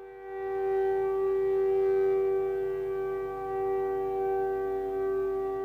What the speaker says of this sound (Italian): L'intero popolo di Israele si ferma quando la sirena suona da Metulla a Eilat, in onore dei soldati caduti in Israele.